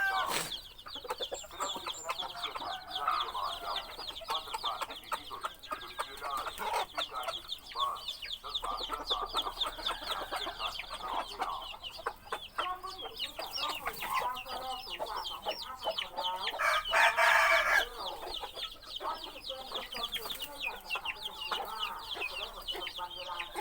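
Several fighting-breed chickens cluck and murmur close by, a busy overlapping chatter of short calls that rises briefly in the middle, with no talking.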